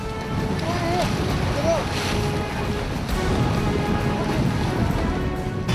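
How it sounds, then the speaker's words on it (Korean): Strong wind drives high ocean waves around a navy rescue boat at sea, giving a constant, loud roar of surf and wind noise. A voice talks over it. "바람이 거세게 불면 더 높게 일렁이는 파도."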